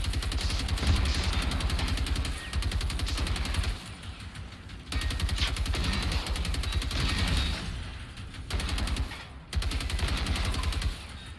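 Rapid automatic gunfire in the video game Generation Zero during a base defence fight, loud sustained bursts broken by short pauses, no talking.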